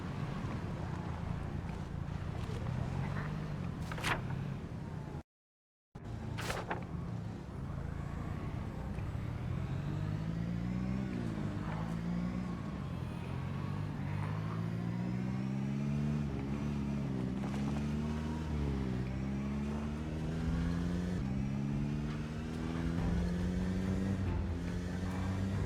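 A car engine runs steadily in the Project Zomboid video game, a droning hum that rises and falls in pitch as it accelerates and shifts, with one brief total dropout early on and no talk.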